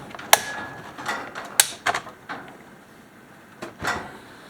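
Stihl 026 chainsaw from the 1990s having its chain brake worked by hand, a few sharp mechanical clicks and snaps with small rattles in between, close up and fairly quiet, with no speech.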